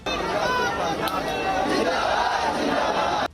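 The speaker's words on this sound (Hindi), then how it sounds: "शहीद के आखिरी दर्शन के लिए हजारों लोगों की भीड़ जमा हुई और देशभक्ति के नारे गूंजते रहे" A huge crowd gathered for the funeral of soldier Jai Kishore in a small settlement in Vaishali raises loud, continuous massed voices in chanted slogans, holding steady for about three seconds before cutting off abruptly.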